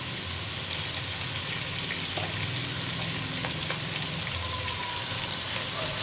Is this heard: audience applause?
no